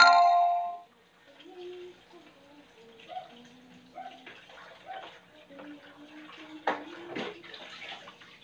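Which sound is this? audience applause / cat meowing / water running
water running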